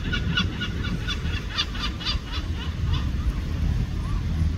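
An Egyptian goose gives a run of rapid, nasal honking calls, fairly close, over steady outdoor background noise.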